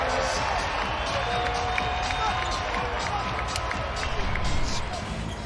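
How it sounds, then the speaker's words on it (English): A basketball arena crowd in Denver roars and cheers loudly at a Nuggets game, with squeaking sneakers and bouncing balls in the mix, the noise swelling near the end under a commentator's voice. "the crowd goes crazy"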